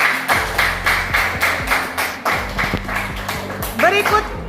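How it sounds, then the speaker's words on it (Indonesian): A student group in a classroom gets a short burst of applause, several hands clapping in quick uneven rhythm for about four seconds, close and fairly loud, with a voice speaking briefly near the end. "beri aplaus untuk kelompok"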